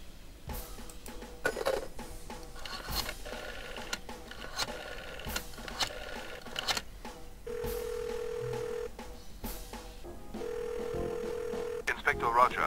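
Telephone dialing in the Jack Orlando video game: scattered clicks and mechanical ticks, then two steady dial-tone beeps, each lasting about a second and a half, over a quiet background.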